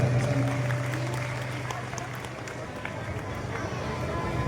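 Loud, sustained clapping from a large audience at a Shiv Mahapuran katha fills the space as a steady dense roar, with a voice faintly audible underneath.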